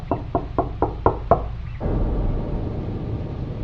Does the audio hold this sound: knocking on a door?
yes